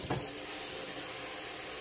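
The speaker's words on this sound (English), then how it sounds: "So we're going to get some hot water." Hot water runs from a kitchen tap in a steady, close hiss, with a small knock at the start and no voices.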